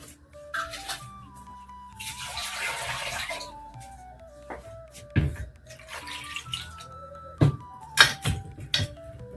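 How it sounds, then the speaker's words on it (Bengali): Potatoes are rinsed under a running kitchen tap, with a rushing splash of water for about a second and a half, then scattered clunks and handling noises while faint melodic tones play in the background. "আলুগুলোকে ভালো করে ধুয়ে নিই।"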